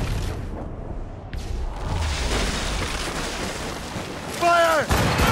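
Ship cannons firing in Assassin's Creed Rogue during a naval battle, a continuous rumbling barrage of booming blasts with heavy low-end roar, and a voice shouting near the end.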